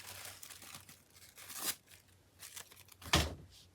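Tissue-like paper is torn and crumpled up close in a craft journaling session, with bursts of crinkling and a sharp tearing rip near the end, no speech.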